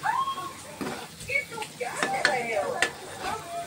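Eggs being added and stirred into frying masala of onion, garlic, ginger, green chilli and tomato, with a utensil scraping and clattering against the pan in short irregular strokes while a person talks over it.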